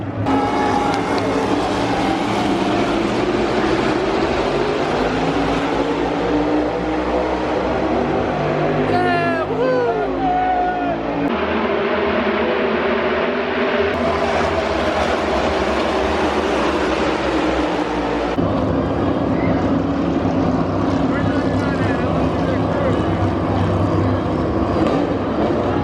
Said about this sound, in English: Oh, by the way, the engines are fired.